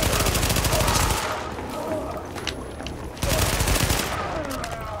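Bursts of rapid automatic gunfire from The Division shooter game, loud and dense at the start and again near the end, with sparser shots and game sounds in between.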